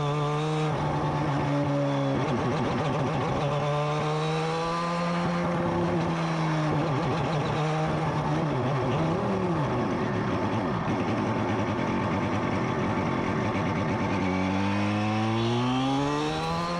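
Crighton CR700W racing motorcycle warming up on track running on slicks, its engine droning steadily and continuously with rising and falling revs as it shifts through gears, loud and close throughout with no talk.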